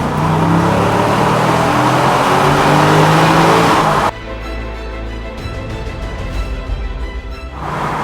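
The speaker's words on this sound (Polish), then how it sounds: "tylko posłuchajcie dźwięku silnika." A 15-year-old BMW sports car engine roars loudly and close as it accelerates hard, then drops to a lower, rumbling tone with a gear change.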